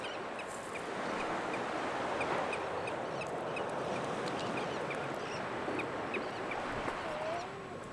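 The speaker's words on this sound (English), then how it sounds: "Look at the bird coming." A bird comes in to be fed outdoors, with repeated honking, goose-like calls over a dense, steady bed of background noise.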